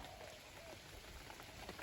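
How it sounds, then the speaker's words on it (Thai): A soft, steady hiss of heavy rain falls on a surface, faint and even throughout, with no voices. "ฝนตกด้วยครับ"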